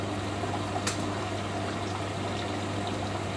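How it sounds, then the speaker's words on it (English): A washing machine fills with water for its third rinse, a steady rushing hiss with a low constant hum, a single brief knock partway through. "filling for the third rinse and showing that the machine tumbles as well"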